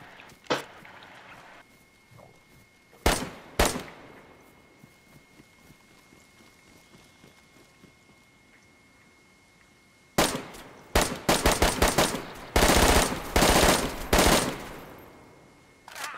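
Video game gunfire comes in sharp bursts: two isolated shots early, a long quiet gap with faint background tones, then rapid clustered volleys of shots near the end.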